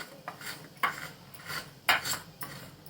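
A knife scrapes around the edge of a steel plate to loosen a steamed rice papad, giving a few short, close metallic scraping strokes with brief pauses between them. No one speaks.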